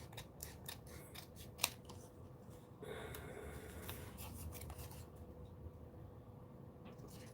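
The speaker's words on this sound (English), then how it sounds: "I should have used my smaller scissor, but oh well." Scissors snip repeatedly through paper or cardstock during a craft project, with a series of close, crisp cuts alongside some faint background noise.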